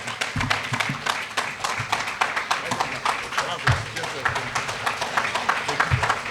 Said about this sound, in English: Keep that a round of applause going for our brother, Rizza Islam.